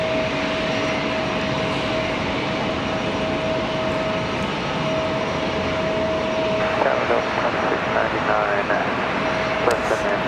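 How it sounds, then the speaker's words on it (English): A Republic Airways passenger jet arriving at Raleigh Durham International Airport, a loud continuous engine roar with a steady high whine, heard at close range with someone talking over it. "Next arrival, the one you're looking at, Republic Airways 4432"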